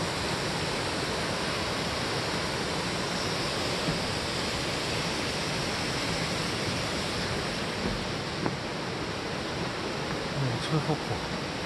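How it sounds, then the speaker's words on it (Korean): Yongchu Falls at Juwangsan pours in a dense, constant roar of rushing water, loud and close, with only a brief faint sound near the end. "여기가 영추폭포입니다."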